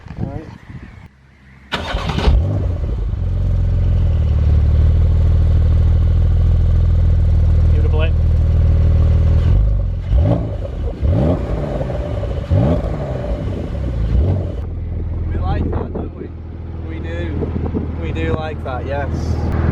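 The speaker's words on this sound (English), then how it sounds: "Do you want to go around and get the exhaust start up?" A Porsche 911 992 Carrera S starts up close by, its engine catching with a sharp bark and settling into a loud steady idle with small revs, while people talk over it.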